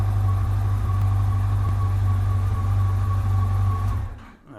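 A Yamaha motorcycle engine idles steadily and loudly up close with a low, even hum, then cuts off near the end, leaving quiet.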